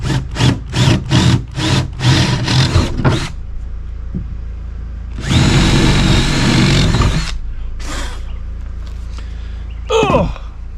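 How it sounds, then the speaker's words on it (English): Power tool cutting a big hole in wood while building a composting toilet: a run of quick rasping bursts, then a louder sustained cut of about two seconds, followed by a few short scrapes up close. "find my jigsaw wherever that is, and drill a hole"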